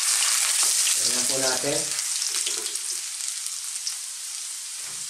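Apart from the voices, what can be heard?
garlic and ginger sautéing in pan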